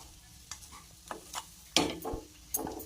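A spoon stirs salted poha, flattened rice, in a pan with about five soft scraping strokes over a gentle sizzle, close and fairly quiet with no voices.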